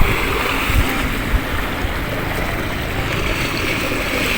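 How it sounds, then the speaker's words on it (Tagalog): Strong waves at a river mouth roll in a steady, continuous wash of surf and water noise, with low wind rumble buffeting the microphone and a couple of brief thumps, heard alone without talk. "Malakas ang alon, hindi tayo makahuli ng isda."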